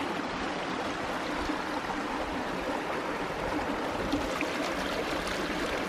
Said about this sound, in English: All right, here's where the water runs.